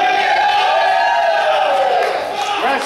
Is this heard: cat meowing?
no